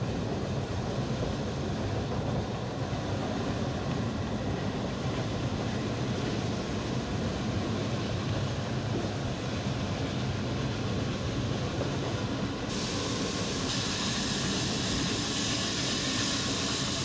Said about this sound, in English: waiting for our logging train to catch up